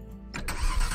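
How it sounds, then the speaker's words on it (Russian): A car engine cranks and catches in the survival game Last Fortress: Underground, a short whir turning into a steady low running rumble, close and moderately loud. "надо машину запустить"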